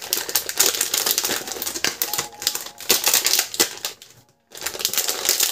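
A Pokemon magazine surprise bag is torn open by hand, giving loud, irregular crackling and crinkling of plastic packaging in quick bursts, with one brief pause near the end.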